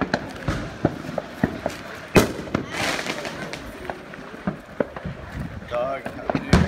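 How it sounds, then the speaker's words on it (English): New Year's Eve fireworks at midnight in Kailua burst in a loud, irregular barrage of sharp cracks and booms, with near and distant pops overlapping, while voices talk in the background. "He's heading up there where all them big fireworks are,"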